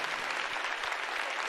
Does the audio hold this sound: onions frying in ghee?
no